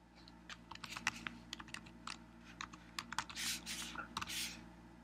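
Fingers type on a computer keyboard while formatting a document in MS Word, giving quiet, irregular key clicks in short runs with soft, thumpier presses mixed in.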